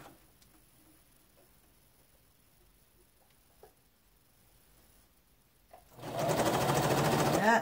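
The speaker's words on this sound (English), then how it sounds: "I'm going to serge all the way down this edge." A serger overlock sewing machine stitches down a fabric edge, starting with faint ticks and clicks before breaking into a loud, steady mechanical whir for the final second and a half.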